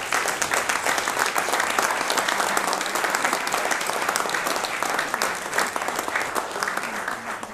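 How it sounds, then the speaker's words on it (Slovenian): A concert crowd at an outdoor Statehood Day celebration with a bonfire applauds a choir marking 25 years of singing, producing a dense, steady wash of clapping that holds at an even, loud level throughout. "zato si zaslužijo najbrž še dodatni aplavz"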